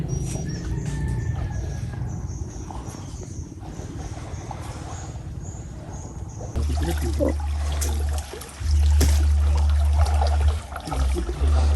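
Fishermen beat river water to drive banak (mullet) into a long net, giving steady splashing and sloshing over a low rumble that grows heavier and louder partway through, with no talk.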